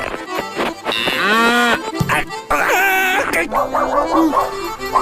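A cartoon cow moos loudly a few times in long, drawn-out calls, with people talking around it.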